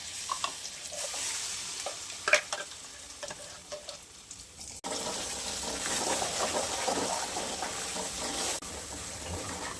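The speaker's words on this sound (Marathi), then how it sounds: "ह्या कढईमध्येच आता भाजी करून घेणार आहे. हा वाटून घेतलेला मसाला टाकणार आहे." A homemade ground masala paste fries in oil in a kadhai, starting as a faint crackle with a few clinks and jumping to a louder, steady sizzle about halfway through.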